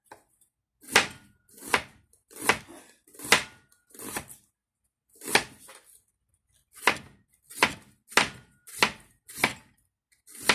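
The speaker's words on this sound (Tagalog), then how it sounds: "Ang paghiwa naman ng sibuyas sa kilawin, ganito lang." An onion is sliced by hand for kilawing bangus, a raw milkfish dish. About a dozen crisp knife strokes thud onto a cutting board in an uneven rhythm, close and loud with clear pauses between, and no talking.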